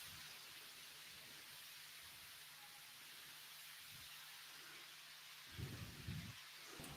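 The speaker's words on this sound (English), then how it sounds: "can you hear the thunder in the background?" Thunder rumbles low and distant from a passing storm under a steady hiss of rain, with a couple of deeper rolls building near the end.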